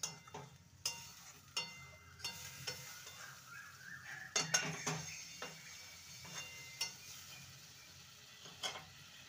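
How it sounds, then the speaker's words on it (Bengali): Fish curry gravy (jhol) heating in a pot while a spoon stirs it, giving soft scrapes and taps at a slow, regular pace over a faint simmering hiss, quiet and close. "এবার এটাকে ফুটতে দেব, ঝোলটাকে।"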